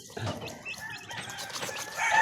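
Chirping and clucking of one-week-old chicks, several birds peeping at once at moderate volume, with a steady background hum.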